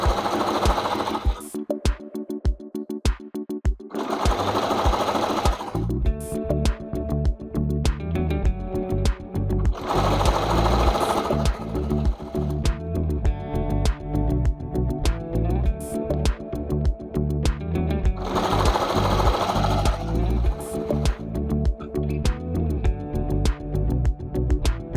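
Sewing machine stitching a sunflower applique pillowcase, running in long steady whirring bursts with brief pauses between runs, close and loud with no talking.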